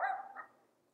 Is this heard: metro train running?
no